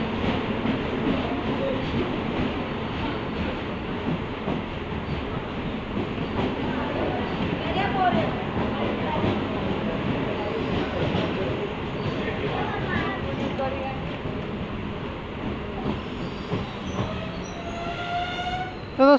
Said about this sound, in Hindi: तो दोस्तों हमने अराइवल ले लिया है कन्हान जंक्शन पर।